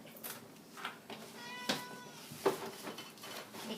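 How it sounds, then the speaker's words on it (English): Domestic cat in a home kitchen meowing several times in short separate calls, close and fairly clear over quiet room sounds. "Are you gonna meow the whole time?"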